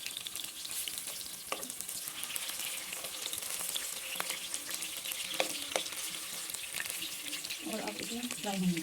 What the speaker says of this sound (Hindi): इस तरह से मैं सारे कबाब फ्राई करूँगी।